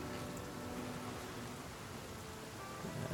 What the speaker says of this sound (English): It just seems to be raining all the time now.